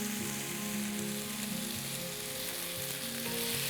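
Mixed vegetables sauté in oil with a dense, even sizzle that crackles like light rain, steady and close throughout with a low background hum.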